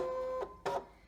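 A Brother ScanNCut 2 cutting machine hums steadily while loading a cutting mat, then gives two short, louder mechanical whirs close by, with no talking.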